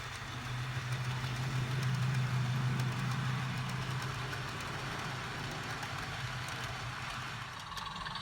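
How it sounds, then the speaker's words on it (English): A model train rumbles steadily along a track with a low humming motor and faint rhythmic clicking, fairly close and continuous, gradually easing off near the end. "this now lets me run the trains across"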